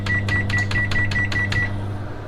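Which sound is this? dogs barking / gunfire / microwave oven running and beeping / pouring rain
microwave oven running and beeping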